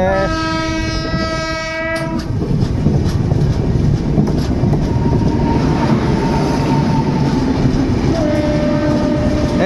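Another train thunders past a train halted at a station, with steady rumbling and clacking wheels, its horn blaring at the start and sounding again near the end.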